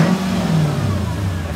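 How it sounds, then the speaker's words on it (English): A Mercedes CLK55 AMG engine revs up loudly through a custom exhaust with a deep, throaty note, rising and holding steady up close. "Let's see how it is when it revs."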